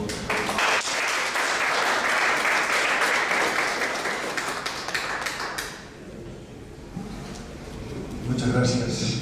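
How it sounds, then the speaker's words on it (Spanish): Audience applause welcoming a speaker at a Spanish-language lecture and debate on international mining prices, a dense sustained clapping that fades around the middle, then voices and room noise take over. "Héctor, lo recibiremos con un aplauso."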